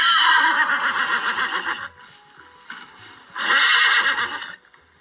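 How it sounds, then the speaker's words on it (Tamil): A horse gives two loud, close neighs, a long whinny followed after a short quieter gap by a second shorter one, standing alone without talk. "தன் எஜமானரை பார்த்ததும் குதிரை கனைத்தது"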